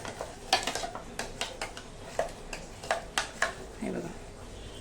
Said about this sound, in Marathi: त्या भांड्यामध्ये मी पाणी घालते आणि हे सगळं जे आपलं वाया जाणार नाही म्हणजे यात हलवून घेते